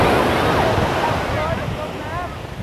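Evening sea waves washing onto a beach, a steady broadband roar of surf with wind noise on the microphone, loud and continuous throughout.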